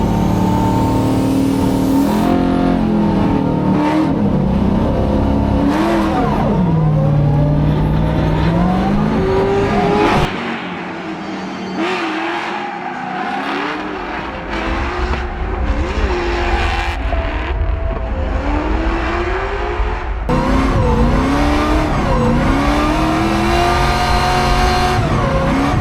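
Drift cars battle at a drift event, engines revving hard and pitching up and down through gear changes while tires squeal in long sliding bursts, loud and close throughout.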